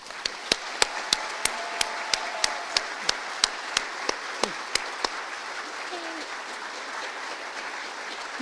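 Crowd applauding nursing graduates at a university convocation ceremony, a broad steady wash of clapping that runs the whole time with sharp regular taps standing out over the first five seconds, then thinning toward the end.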